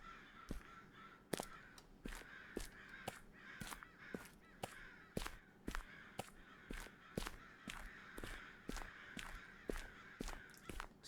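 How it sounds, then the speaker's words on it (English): Many crows caw in the horror video game Okaeri, harsh repeated calls in a steady irregular rhythm that overlap one another, fairly loud and close, with no one talking. "There's a lot of crows out there, a lot of crows or ravens."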